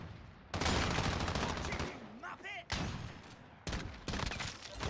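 Warzone gunfire: repeated bursts of rapid automatic shots, loud and close, broken by short lulls with faint distant noises between.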